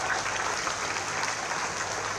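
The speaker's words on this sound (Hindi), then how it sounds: "हम जोरदार तालियां बजाकर माननीय प्रधानमंत्री जी का स्वागत करें।" Loud, dense applause from a large crowd welcoming the Prime Minister at an official event in Lucknow, a continuous roar of clapping filling the whole stretch.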